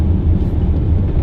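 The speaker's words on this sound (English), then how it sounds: "The car is very loud in every regard, in terms of road noise," A Dodge Viper GTS on the move, its engine drone and road rumble filling the cabin as a loud, steady, low-heavy roar with no voices.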